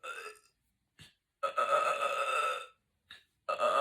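Loud, long burps from a person eating a fast-food meal during a mukbang session, in several separate bursts with pauses between, one extended belch in the middle and shorter ones at the start and end.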